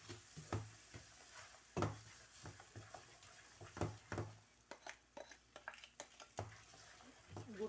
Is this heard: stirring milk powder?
yes